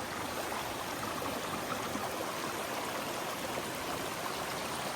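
A stream flows steadily, a constant close rushing and gurgling of water with no other sounds.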